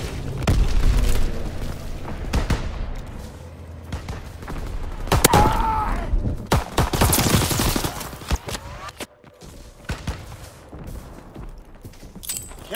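Recon air bomb strike in Call of Duty WWII, a loud barrage of booming explosions mixed with gunfire bursts, dense at first and easing toward the end, with game voices under the blasts.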